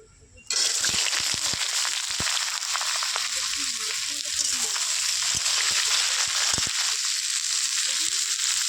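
Bitter gourd slices hit hot oil tempered with broken dried red chillies and start frying, a loud, steady sizzle that bursts in at once and holds near and continuous with small crackles and stirring clinks.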